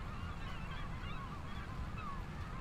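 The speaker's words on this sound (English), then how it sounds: "those seagulls are pretty loud" Seagulls call in Farming Simulator 25 on a Western Australia map. Honking, squawking cries repeat over a steady, dull background hum, moderately loud and with no talking.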